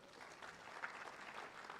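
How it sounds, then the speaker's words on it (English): Applause from the audience at a blue economy innovation and investment summit, a soft, steady spread of clapping from a room heard at a low level, with no talking. "So we clap for them, the whole team that is there on the screen."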